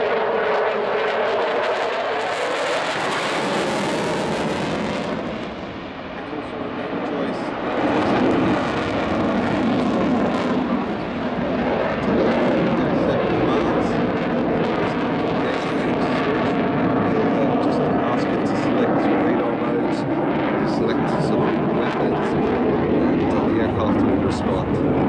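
A Eurofighter Typhoon jet performs at an international air show in Ayr, its engine roar steady and loud throughout with a brief dip, under a commentator talking over it.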